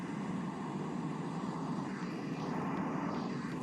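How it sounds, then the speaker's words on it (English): Airdrop plane in Escape from Tarkov passing overhead, a loud, dense engine roar that fills the whole clip steadily without fading, with no voices. "We've all heard that ridiculously loud plane flyover."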